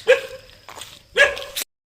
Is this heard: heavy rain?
no